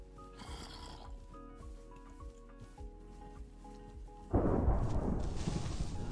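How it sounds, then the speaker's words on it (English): In the video game TerraFirmaCraft, a deep rumble of thunder bursts in partway through and rolls on loudly, following a calmer stretch with a steady musical tone. "There's the thunder."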